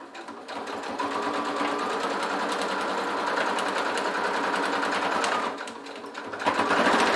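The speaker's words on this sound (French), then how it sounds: "je plante mon aiguille et je vais pousser mon curseur vers l'arrière pour pas qu'il me gêne. Et c'est reparti donc pour ma couture." A sewing machine stitches a fabric travel bag, running in a loud, steady close-up whir for about five seconds, pausing briefly, then starting up again.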